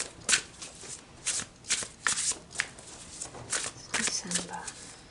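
An oracle card deck, the Shaman's Dream Oracle, shuffled by hand in a run of crisp riffling bursts spread across the clip, close and clear, with no talking over it.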